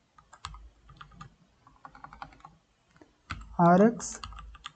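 Keyboard typing while writing code for a Flutter chat app, with scattered key clicks in short bursts, a pause, then a louder cluster of keystrokes; a brief voice-like tonal burst cuts in near the end.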